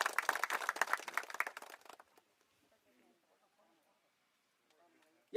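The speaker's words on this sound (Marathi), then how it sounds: "या सर्वांसाठी एकदा पुन्हा जोरदार टाळ्या वाजवूया." A crowd claps at a family reunion gathering, a dense burst of applause for about two seconds that quickly fades into near silence.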